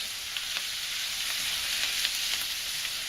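Cabbage frying with bacon in oil in a pan, giving a steady, loud, even sizzle with small crackling pops throughout and no talking.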